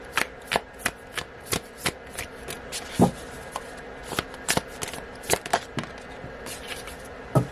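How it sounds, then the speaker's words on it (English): Oracle cards shuffled by hand, heard as a steady run of sharp, close slaps and soft riffles, about two per second, with a heavier knock midway and a faint room hiss underneath and no speech. "let's pull a few more oracle cards"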